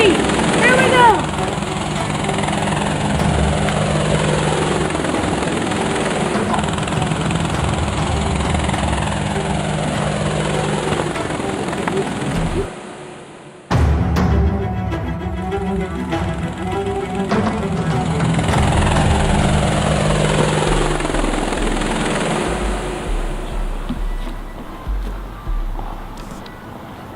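A helicopter hovers close by at about 15 feet, its steady, loud rotor and engine roar running throughout. The roar cuts out briefly midway, then resumes. People talk over the noise.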